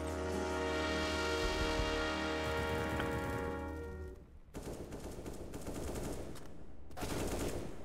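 Rapid automatic gunfire in the video game Counter-Strike: Global Offensive, on the Nuke map: a sustained dense burst of shots, a brief lull, then further bursts of fire, loud and continuous.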